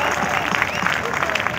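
An audience at a large mushaira poetry gathering at the Expo Center in Karachi applauds, a brief, dense wash of clapping with a voice speaking over it.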